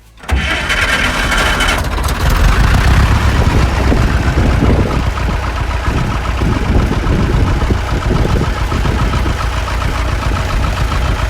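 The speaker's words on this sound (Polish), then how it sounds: "Pal maszynę." A heavy diesel engine on an Ursus C-360 tractor cranks and catches, then settles into a loud, rough, rattling idle close by.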